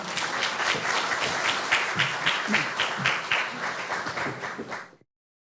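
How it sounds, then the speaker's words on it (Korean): Warm applause from a forum audience at the Busan International Film Festival welcomes the head of the Korean Film Archive to the stage, a full, continuous clatter of many hands that fades out abruptly near the end. "많은 박수 부탁드립니다."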